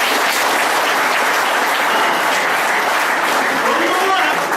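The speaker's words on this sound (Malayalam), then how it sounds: "ഒന്ന് ആവേശകരമായി കൈയടിക്കാൻ പറയുമ്പോൾ" Sustained, energetic clapping from a seated audience at a design awareness programme, a thick continuous wash of hands that holds at an even loudness throughout.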